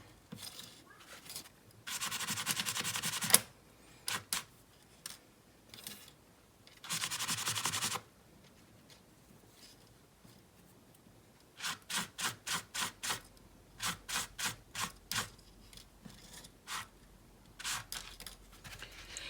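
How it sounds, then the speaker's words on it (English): A scrubby rubs torch oxidation off balled wire earrings, heard as short bursts of close, gritty scrubbing, two longer passes followed by a rapid series of brief strokes, with quiet gaps between. "So I'm just going to take the scrubby and just kind of clean that up a little."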